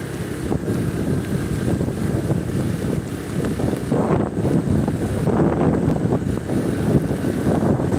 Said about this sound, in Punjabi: ਹਵਾ ਦੀ ਵੀ ਆਵਾਜ਼ ਕਾਫੀ ਆ ਨਾਲ